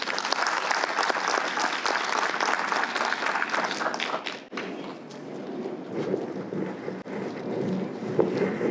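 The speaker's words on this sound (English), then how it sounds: "Let's give Ms. Barner-Davis a warm round of applause." A warm round of applause at a literary competition reception, loud dense clapping for about four seconds that abruptly drops, then lighter scattered clapping and some room noise continuing.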